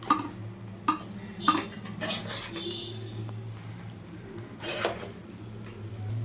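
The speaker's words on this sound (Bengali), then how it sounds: "এবার এটাকে এইভাবে নাড়াচাড়া করে সুন্দর করে পুরোটা একসঙ্গে এইভাবে মাখিয়ে নিতে হবে" Ghee-coated pulao rice stirred in a metal pot with a spoon, soft scraping with a few sharp clinks of utensil against the pot at the start, close and fairly quiet.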